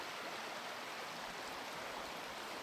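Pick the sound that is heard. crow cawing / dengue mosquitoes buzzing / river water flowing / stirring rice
river water flowing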